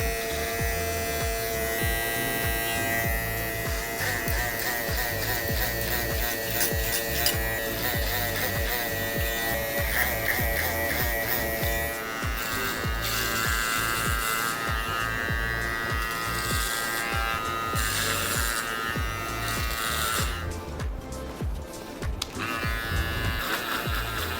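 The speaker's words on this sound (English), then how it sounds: "I'm gonna start by just clipper over combing the bottom area" Electric hair clippers buzz steadily through a clipper-over-comb cut on the bottom area of a mullet being turned into a brushback, a continuous close whir with small shifts in pitch as the blade moves, alone throughout.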